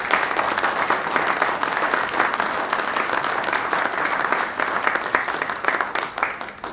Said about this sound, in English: can we all give a round of applause for the wonderful work that they've done?